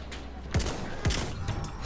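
Rifle shots from the Selbstlader 1906 in the video game Battlefield 1: two sharp, loud reports about half a second apart, each with a short decaying tail, over a low battlefield ambience.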